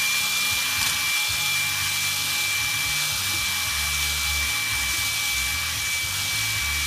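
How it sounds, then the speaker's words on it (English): A stone hone grinds steadily inside a small engine cylinder lubricated with WD-40, a continuous loud abrasive rasp with a faint high whine, heard alone without talk. "It lubricates the stones and allows it to cut the cylinder."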